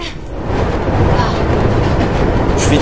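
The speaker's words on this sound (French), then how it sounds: "Le métro, effet le métro." A metro train rushes past in the video game Mirror's Edge, a loud, steady rumbling roar with rattling wheel noise that holds throughout, close and dominant.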